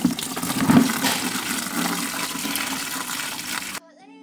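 Old brown coolant gushes steadily from the radiator of an Isuzu Crosswind into a bucket, a loud continuous watery pour close by that cuts off abruptly near the end.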